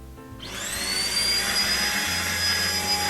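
A handheld UV bed vacuum cleaner starts up with a rising whine, then settles into a steady, loud, high-pitched whirring hum close by with no talk.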